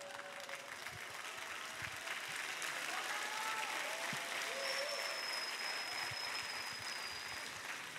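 Steady audience applause fills the whole stretch, dense and even, with faint voices underneath.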